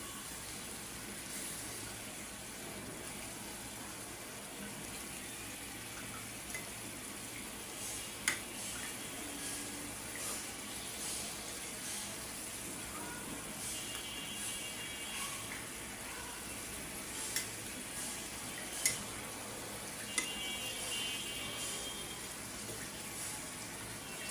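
Eggs fry in a pan with a continuous soft sizzling hiss, while a few sharp clicks of a spatula mark the eggs being turned over.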